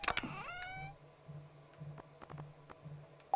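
A cat in the farming video game Stardew Valley gives a short, bright meow at the start, followed by soft, scattered game ticks and blips at low volume.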